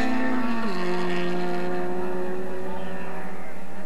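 Racing cars in an SCCA F Production national championship, a Triumph, a Turner and a Volvo, pass with a sustained engine drone. One engine's pitch drops sharply early on as it goes by, then holds a steady, moderately loud hum.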